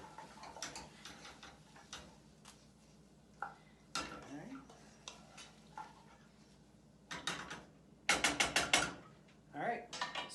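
Garlic and vegetables stirred in a soup pot, bursts of spoon clatter and scraping against metal in quick clusters, near and moderately loud, with quiet gaps between.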